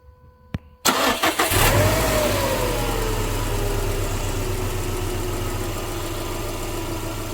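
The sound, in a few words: car engine running, possible misfire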